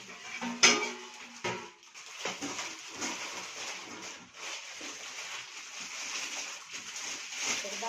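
Metal cooking pots and utensils from a 30-piece kit clink and rattle as they are handled, with a sharp clang early on and continuous softer shuffling and scraping after.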